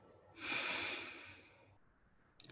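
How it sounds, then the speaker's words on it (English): A single long, deep inhalation drawn in through the nose during a calm guided evening meditation, rising quickly to a loud, close, airy rush that holds for over a second before fading into near silence. "taking a nice deep breath in through the nose"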